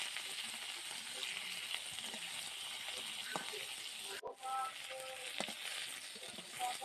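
Snakehead fish sizzling in hot oil in a wok, a steady crackling fry with occasional clinks and stirring scrapes, fairly quiet and close.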